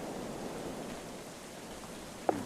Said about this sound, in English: I'm wondering if they're going to get wounded by the hail